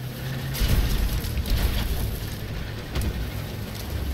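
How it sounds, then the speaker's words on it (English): Enemy artillery shells explode in Armored Warfare combat, several heavy booms landing in quick succession over a rumbling, crackling background of battlefield noise. "And here is the enemy artillery"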